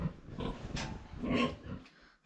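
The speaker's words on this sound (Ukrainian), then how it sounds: "Свинка вона щось панікує." A panicking pig grunts and snuffles in a series of rough, close calls that swell and fade over a couple of seconds, with no talking over them.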